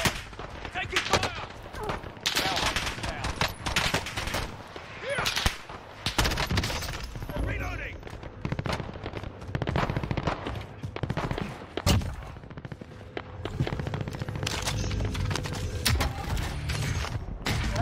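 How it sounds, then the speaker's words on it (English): Gunfire rattles almost nonstop in Call of Duty Warzone, with bursts of automatic fire, single shots and booming blasts over a dense, loud battle. Voices speak at times under the shooting. "Taking fire!"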